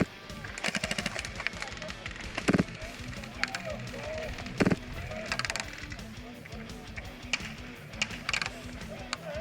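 Airsoft guns firing during a game, repeated sharp cracks and short bursts scattered among outdoor background noise, with players talking over the shots.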